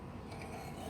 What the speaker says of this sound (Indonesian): Ini memandu daripada gergaji besi yang kita gunakan agar tetap lurus.